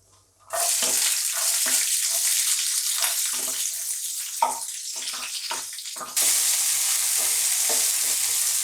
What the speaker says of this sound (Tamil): இதெல்லாம் ஒன்றா போட்டு ஒன்றோட ஒன்றா வணக்கிறோம்.